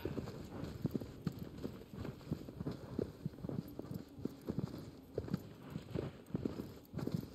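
Horse hooves clip-clop in a steady running rhythm through Shadow of the Colossus, the rapid, moderately loud thuds continuing throughout over a low rumble.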